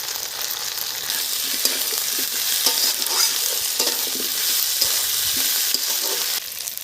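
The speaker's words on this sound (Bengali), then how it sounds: "পেঁয়াজ ভাজা হয়ে গেছে আলুগুলো দিয়ে দিয়েছি আলুর সাথে আদা রসুন বাটা" Onions, potatoes and ginger-garlic paste frying and being stirred in a pan while cooking a crab curry, a steady loud sizzle with scraping stirs throughout, no voices.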